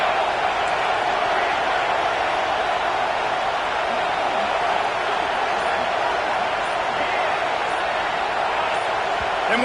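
Steady roar of a large stadium crowd at a USC versus BYU college football game, loud and continuous throughout, without distinct breaks or individual voices standing out.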